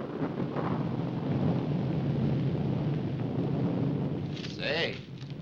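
Thunder from a gathering storm rolls on as a long, loud, low rumble that holds steady for several seconds before easing off near the end, with brief higher warbling sounds late on and no clear talking.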